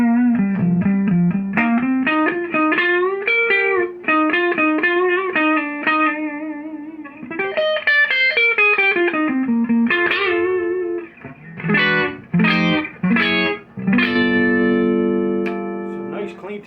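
Electric guitar played clean through a Joyo Zombie pedal, a melodic lead line of single notes and bends followed by sharp chord stabs, bright and close with slight reverb, bluesy phrasing.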